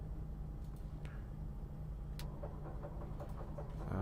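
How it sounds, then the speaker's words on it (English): Left engine of an aircraft in the GripperSim flight simulator game, a steady low droning hum that holds at an even level throughout, with faint clicks over it. "Ooh, the sound is stunning. The left engine."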